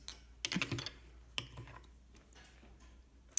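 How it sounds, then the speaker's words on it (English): Scissors snip thread ends while a fly is being tied: a few small, close, quiet clicks and ticks in a short burst, then scattered single snips, with no voices. "we can now snip it. Just snip the ends."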